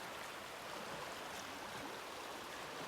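A river swollen far above its usual level, running about waist-deep where it is normally shin-deep near a campsite, gives a steady, dense rushing roar close by, with no voices.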